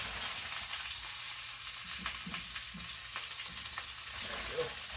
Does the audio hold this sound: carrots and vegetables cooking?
yes